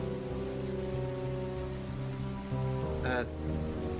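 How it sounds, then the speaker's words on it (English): Steady rain falls as an ambient effect during a tabletop roleplaying game session, a continuous hiss laid over a low musical drone, with a brief brighter swell near the end. "he stares up at the clouds, the rain coming down"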